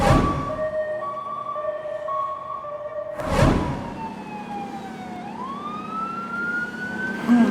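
A loud emergency siren wailing and sweeping in pitch, with traffic rumble and a couple of bursts of wind or vehicle noise.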